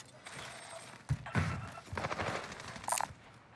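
Gunfire in the Call of Duty Warzone video game, Rebirth Island map, heard as scattered bursts and thuds at mid distance over a steady background, with a sharper crack near the end.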